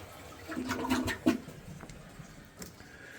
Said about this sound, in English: It's the water running.